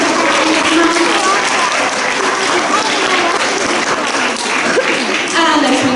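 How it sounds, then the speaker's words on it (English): Steady, dense applause from a school assembly audience fills the whole stretch, loud and continuous with a few voices mixed in. "Can we give them a round of applause?"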